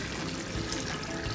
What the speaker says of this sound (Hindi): 2 कप के करीब हम इसके अंदर पानी ऐड करते हैं